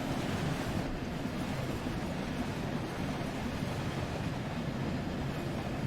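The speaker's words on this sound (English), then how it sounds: "Oop, train." A steam train in the Train Sim World 2 game rolls past at close range, its broad, steady roar of wheels and motion filling the whole few seconds at a constant loud level, with no talking.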